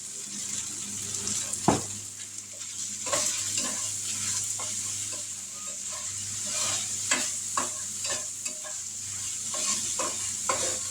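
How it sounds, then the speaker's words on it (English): Mild picante sauce poured into taco spaghetti in a hot skillet, a steady sizzle with scraping stirs and spoon knocks running throughout, no talking. "Now we're going to pour in some mild paste pecani sauce."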